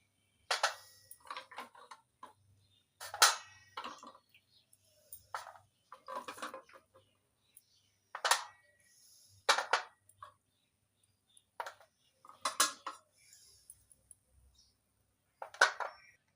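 Washed clay oil lamps are picked up one at a time, giving a series of short, sharp ceramic clinks and knocks spaced a second or two apart, close and fairly quiet, with no one speaking.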